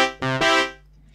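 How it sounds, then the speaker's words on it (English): A Yamaha PSS-280 keyboard brass preset plays two quick punchy stabs that decay into quiet, up close and alone. "And here we have a couple of brass sounds."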